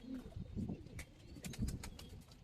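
Giribaz pigeons of an old lineage in a loft, soft low cooing close by, with a few brief sharp clicks and rustles scattered over the short stretch and no speech.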